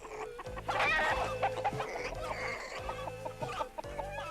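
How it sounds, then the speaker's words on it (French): Chickens clucking in a cartoon farmyard, several birds calling in short repeated bursts over a busy backdrop of music and other effects, fairly close and steady throughout. "Les poulets."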